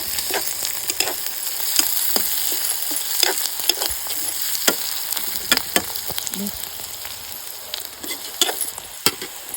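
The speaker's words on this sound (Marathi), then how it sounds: "हे बघा आता हा आपण सगळं मिक्स केलेलं ना त्याला मसाला वगैरे ते आता फोडणीत टाकते" Onion and masala sizzle steadily in a hot tempering for a vegetable dish cooked outdoors in a farm field, with a constant crackling hiss broken by frequent sharp clicks and scrapes of stirring.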